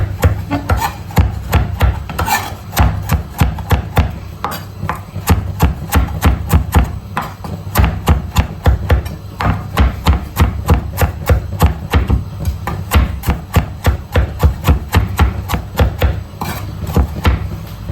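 A knife chops parsley finely on a board in a fast, steady run of sharp, close knocks that continues for a long stretch, loud and alone with no voices.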